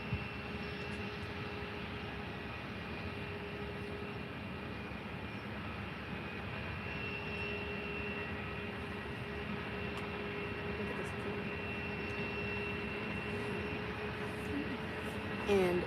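Luxair Boeing 737 MAX 8 taxiing at Faro airport, a steady distant engine drone with a faint whine, holding level throughout and rising slightly at the very end.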